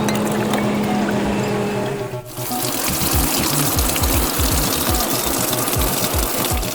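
A running water stream sprays steadily onto a toy fire truck inside a toy car wash built from plastic blocks. The spray is close and continuous, briefly pausing before resuming with a pulsing hiss.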